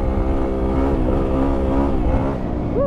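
A Yamaha WR450F dirt bike engine revs hard and continuously up close, its pitch rising and falling as the rider works the throttle over open ground with loose stones.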